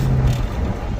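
A 2000 Ford Mustang GT, warmed up on a hot day and held at low RPM, shifts into fourth gear with a steady, close, low engine rumble that carries on without a break.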